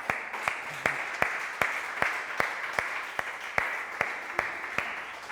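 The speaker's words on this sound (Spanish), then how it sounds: "Un aplauso a él, para adelante." Steady, evenly paced clapping from a crowd, loud and rhythmic, with each clap sounding at a regular beat for several seconds.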